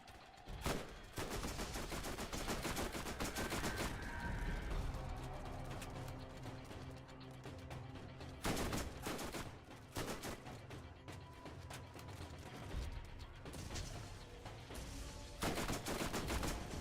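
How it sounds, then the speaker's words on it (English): Rapid bursts of gunfire from the video game Borderlands GOTY, with repeated volleys and automatic fire running loud throughout, broken by short sharp shots and a few brief lulls. "Somebody's shooting."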